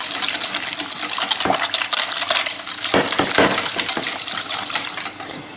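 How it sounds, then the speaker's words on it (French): Egg and cream mixture for a leek and surimi quiche being whisked in a bowl, producing loud, continuous scraping and clinking of a utensil against the dish with sharp taps throughout, no voices. "Je vais mélanger jusqu'à incorporation de la crème"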